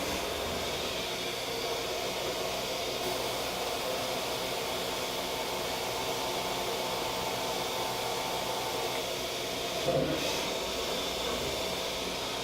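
Powder coating spray gun blows primer onto a panel in a continuous, even hiss of rushing air that holds steady throughout, with a small bump near the end.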